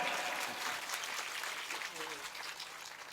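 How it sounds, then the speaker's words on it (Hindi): Audience clapping steadily at a Ram Katha religious gathering in Hamirpur, a dense continuous wash of many hands held at even loudness throughout, with no voices over it. "जोरदार तालियां"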